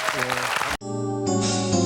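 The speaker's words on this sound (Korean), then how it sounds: "아름다운 만남에 박수 한번 보내주시기 바랍니다." A studio audience on a Korean army-unit TV show claps briefly, then the sound cuts abruptly to a tonal musical jingle.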